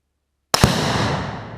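Sudden loud blast of an exploding target going off outdoors after a moment of silence, one sharp crack followed by a long rumbling decay that fades over about a second.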